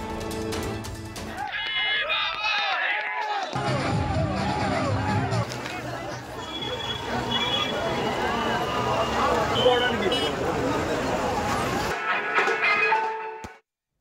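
Dense crowd hubbub from throngs lining a national highway at midnight, waiting to see a passing political leader's car, a continuous loud babble of many voices with shouts and scattered bangs, fading abruptly at the end.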